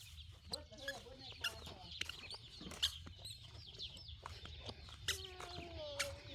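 Chickens and a rooster cluck and chirp close by on a morning farm outing, with steady low rumbling noise underneath and scattered sharp clucks throughout.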